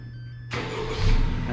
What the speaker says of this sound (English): and the car will start just like that